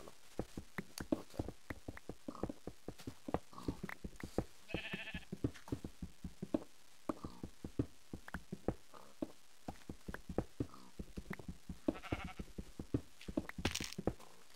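Sheep bleating in a video game over a dense run of sharp clicks and knocks, with a few short, clear bleats standing out at moderate loudness.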